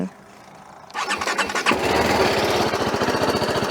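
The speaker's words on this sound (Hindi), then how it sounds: "सो अभी हम ऑन करेंगे बाइक।" A TVS Apache RR310 motorcycle engine cranks briefly and fires up, then settles into a steady, close idle with an even rapid pulsing after the start.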